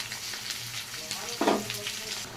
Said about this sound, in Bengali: আলু পটলটা ভালো করে ভাজা হয়ে গেছে।